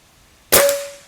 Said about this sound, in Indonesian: Oke, tembakan yang ke-1 ya, kita mulai.